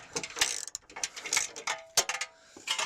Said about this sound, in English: Alright, so I'm gonna loosen this bolt